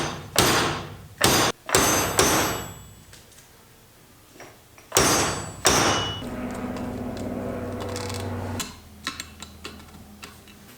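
Outer tube of a Honda CRF300L motorcycle fork, clean and oiled, slid back over the inner tube during reassembly, heard as a few sharp metallic knocks and a sliding clunk up close, followed by quieter ringing and light ticks.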